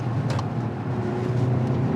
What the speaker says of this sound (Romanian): Se aude un pic motorul, dar nu este deranjant,